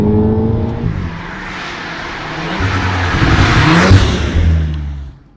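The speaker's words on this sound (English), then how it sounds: "The turbo sounds very, very good." A turbocharged Volkswagen Golf R revs hard and accelerates up through its gears, loud and close, with a rising turbo whine and a brief dip between shifts.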